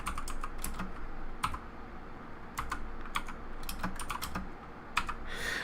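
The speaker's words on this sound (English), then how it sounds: "So if we wanted to, we could type a little program here." Steady bursts of keystrokes on a computer keyboard, typing a short program into an N8VEM SBC V2 single-board computer; close, crisp clicks in quick runs with brief pauses, no talking.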